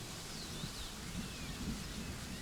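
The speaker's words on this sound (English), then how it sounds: "It's raining heavily" Heavy rain falls as a steady, dense wash of hiss close by, with faint birdsong threading through it and no voices.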